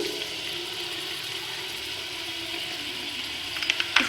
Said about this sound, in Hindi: ऑयल हमारा गरम हो गया। अब हम इसमें डालेंगे प्याज।